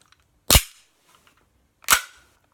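The slide of a Tokyo Marui Night Warrior airsoft pistol is racked twice, giving two sharp, loud, close metallic clacks about a second and a half apart, with near silence between them.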